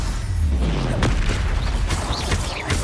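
In the Hogwarts Legacy video game, an Expelliarmus spell goes off as a booming magical blast with crackling bursts, loud and close, over game music, and a voice speaks the spell's name.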